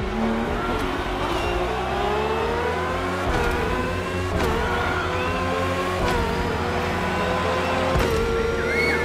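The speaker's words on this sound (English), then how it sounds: "RB18 is the latest model, with more aggressive aerodynamics and a powerful Honda engine" Red Bull RB18 with a Honda engine racing in The Crew Motorfest, a loud continuous high-revving whine climbing and dropping through quick gear shifts, steady and close throughout.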